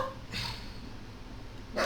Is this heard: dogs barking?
yes